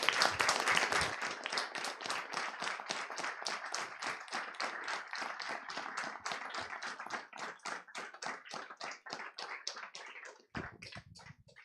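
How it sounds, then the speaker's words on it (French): An audience applauds a historian after his lecture on fascism, a dense, steady round of clapping that carries on for about ten seconds before thinning into a few final claps. "je vous propose d'applaudir fortement Frédéric Le Moral"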